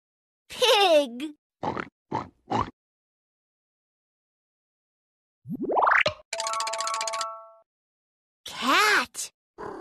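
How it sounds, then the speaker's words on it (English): A toy pig oinks in a Fisher-Price Puppy learning toy for babies: a few grunting snorts, then a rising boing sweep and a bright chime, followed by more snorts, all loud and close with gaps of silence between. "Pig."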